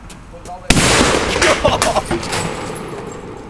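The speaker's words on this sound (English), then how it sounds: "This is the best firecracker on earth." A single sharp, loud firecracker blast cracks out, followed by a scattering of crackles and debris noise, including a shattering window, fading over a few seconds; voices murmur nearby.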